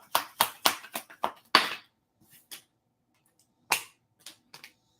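Sharp hand claps during a tarot card reading, a quick burst of about seven crisp claps in a row, then a pause and a few softer scattered claps, close and dry with no talking.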